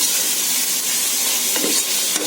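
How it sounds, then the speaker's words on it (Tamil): Tomatoes sauté in a pan for mutton biryani, giving a loud, steady sizzle and hiss with a brief stirring scrape, close and continuous. "தக்காளி போட்டு நல்லா கரையிற அளவுக்கு வதக்கி எடுத்துக்கலாம்"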